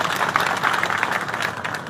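Audience applause at a sugar factory boiler-lighting event, a dense steady wash of clapping from a crowd that stays fairly loud and even throughout, with no talk over it.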